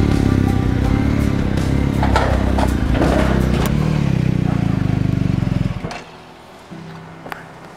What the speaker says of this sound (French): simplement j'ai qu'à rouler droit et j'engage la moto jusqu'en haut